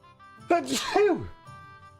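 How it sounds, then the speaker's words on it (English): A single loud, close sneeze with a sharp intake and burst, followed by a brief vocal tail, over faint game background music. "Sorry guys, I sneezed."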